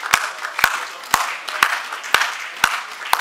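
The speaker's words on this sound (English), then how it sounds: "give His Excellency a standing ovation with clapping for this feat he has achieved" An arena crowd of state workers at a Kogi government event claps in unison, giving a standing ovation with sharp, evenly spaced claps about twice a second over low background murmur.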